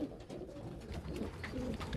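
Pigeons coo softly in a loft beside squabs and eggs, low rolling calls repeating over a steady background hum.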